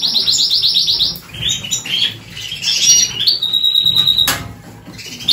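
A canary chirps and squawks in quick bursts, close and fairly loud, while its feathers are trimmed, with brief rustling and a few sharp high calls.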